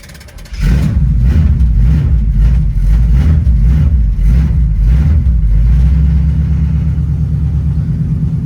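A 1982 Oldsmobile Cutlass Supreme V8 fires up after a brief crank and settles into a loud, deep, steady rumbling idle with a slightly uneven throb, close by and alone.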